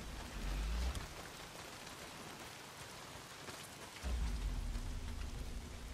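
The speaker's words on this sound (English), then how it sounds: "Well, not if it's pissing down rain." Heavy rain pouring down in the video game Days Gone, a dense steady hiss throughout with a low rumble swelling at the start and again near the end, no voices.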